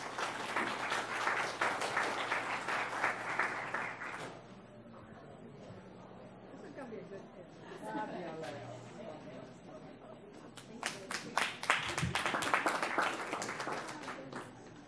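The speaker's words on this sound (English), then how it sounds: "Let's give her a round of applause." Loud applause from a crowd fills the start, fades into murmuring and scattered sounds, then a second burst of clapping swells near the end.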